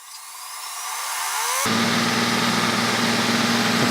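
A Neato robot vacuum runs with its wheel motor wired in reverse: a rising motor whine swells over the first second and a half, then a loud, steady mechanical whir with a low hum holds to the end.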